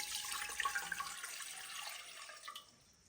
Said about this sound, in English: putting a little bit of water in the bottom, probably like about 1 inch of water in the bottom